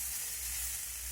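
Chira pulao, flattened rice cooked with ghee, sizzles steadily in a pan as it is stirred and mixed, a close, continuous hiss with no talking.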